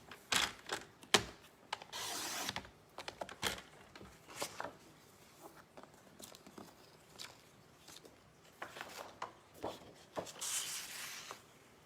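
Paper strips being cut for a tag box give a series of close, crisp snips and rustles in irregular bursts, with paper shuffling between cuts and no talking.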